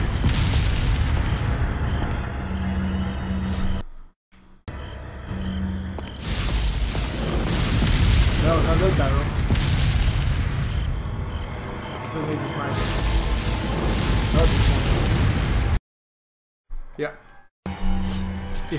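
Loud booming blasts and gunfire from a barrel being shot and exploding in Resident Evil 4, with heavy sustained rumble and brief drop-outs into silence, while people talk over it.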